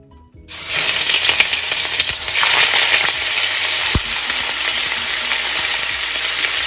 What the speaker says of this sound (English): First, sear steaks.